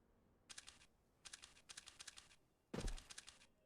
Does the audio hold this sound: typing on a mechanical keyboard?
yes